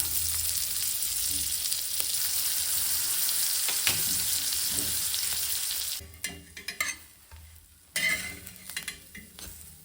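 Bread toasts in butter on a hot pan with a continuous close sizzle, then the sizzle drops as the slices are flipped, followed by a few spatula scrapes and clinks.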